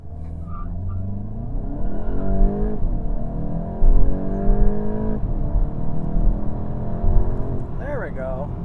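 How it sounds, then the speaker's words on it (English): A 2023 Volkswagen Golf GTI accelerating hard from standstill in a 0 to 60 run, engine revving and climbing through several gear shifts in rising sweeps, loud and close, with a voice heard briefly near the end. "Let's try our 0 to 60."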